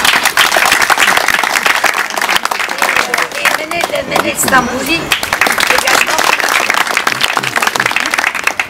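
Audience applause at the inauguration of a shelter for homeless women, dense sustained clapping from a crowd, loud and close, with a speaker's voice breaking through over it partway.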